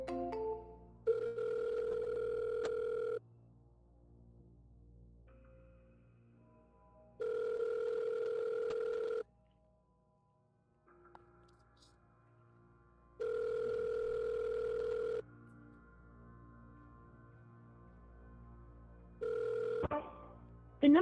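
Telephone ringback tone after dialing a number: a steady two-note electronic tone that sounds for about two seconds and then pauses about four seconds, repeating several times, clear and alone.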